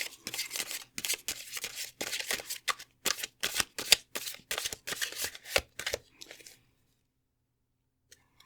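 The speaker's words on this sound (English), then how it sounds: "Shuffle these in 2 waves because it's kind of a thick deck." A thick deck of tea leaf reading cards shuffled close up in rapid riffling bursts for about six seconds, then falling silent.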